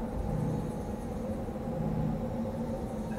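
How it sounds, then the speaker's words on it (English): Steady low rumbling wind of a dust storm in the video game Astroneer, a continuous broadband roar with no clear breaks and no talk. "there's obviously a dust storm going on"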